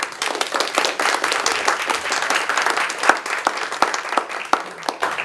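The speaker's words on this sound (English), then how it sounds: "can we go ahead and give them a round of applause and thank them for" Audience applause at a Morgantown Area Chamber of Commerce legislative review event, steady dense clapping from a room of people lasting several seconds with a few sharper individual claps standing out.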